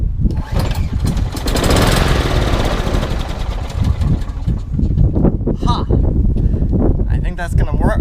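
An old lawnmower engine sputters to life after fuel is squirted into the spark plug hole, then runs with a loud, rough, rapid chugging close by, a voice briefly audible over it.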